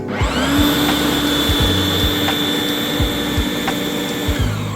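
A lawn scarifier rips up grass and soil with a loud, steady mechanical whine and a constant droning motor, with rhythmic thumping underneath as the blades tear at the turf.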